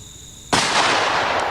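A single loud gunshot from a big revolver cracks sharply out of near silence, close by, followed by a long ringing decay and echo.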